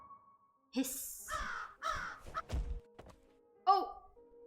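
A crow caws in the horror video game Habromania, with harsh calls standing out amid thunks and thuds, fairly close and distinct against quiet background.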